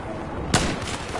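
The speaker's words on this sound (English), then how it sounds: "who's shooting?" A single sharp gunshot rings out in the shooter game Battlefield 4, close and loud over steady in-game ambient noise, followed by a few fainter distant cracks.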